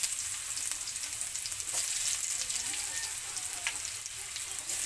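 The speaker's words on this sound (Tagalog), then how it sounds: "Stir fry." String beans stir-fry in squid-flavored oil left from cooking calamari, a steady bright sizzle with light stirring scrapes, close and continuous without talk.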